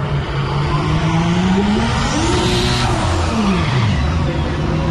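A Dodge Viper on a quarter-mile drag run at a street car takeover in Charlotte, its engine droning loudly with a rising and falling pitch sweep as it passes, with other cars in the background.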